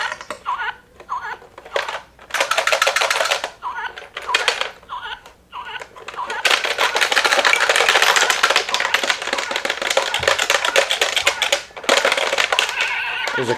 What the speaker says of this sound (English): it sounds like the alarm is going off